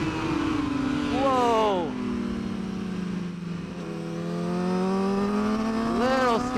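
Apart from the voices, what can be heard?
superbike engine revving during a race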